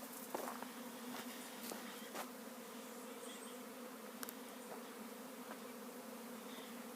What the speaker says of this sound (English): I got a bee swarm coming in